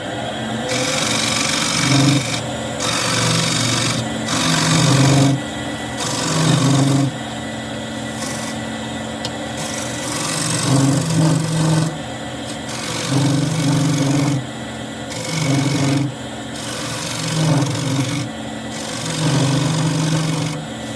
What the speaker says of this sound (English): I'm gonna try and go in with the square inch scraper in an angle like that, and then come back.